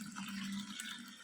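Water drains steadily out of a household air cooler during cleaning, a soft continuous trickle and splash heard up close with no voices.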